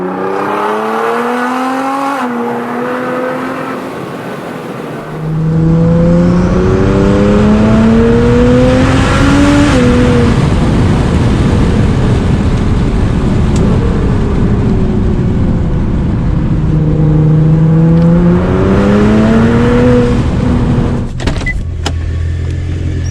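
A Nissan GT-R engine roars and revs hard, pitch climbing through repeated gear shifts, loud and close, with brief dips as it changes gear.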